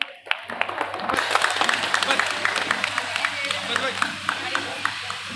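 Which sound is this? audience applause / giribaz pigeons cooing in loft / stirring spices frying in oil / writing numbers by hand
audience applause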